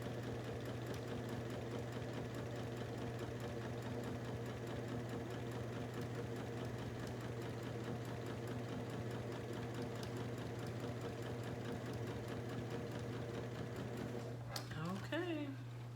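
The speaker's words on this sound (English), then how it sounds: "I can go ahead and sew straight off the edge" A sewing machine runs steadily and evenly while stitching jelly roll quilt strips for a jelly roll race quilt, a continuous mechanical hum with no pauses, ending with a brief rattle near the close.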